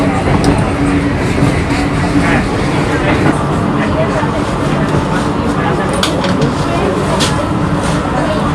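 A Kolkata metro train at Noapara station gives a loud, continuous rumble and roar that fills the platform, with a faint murmur of voices beneath the steady mechanical noise.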